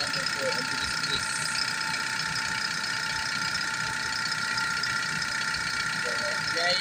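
A car engine idles with a faulty number 4 injector, giving a steady, close mechanical running tone with a light rapid ticking throughout and no break.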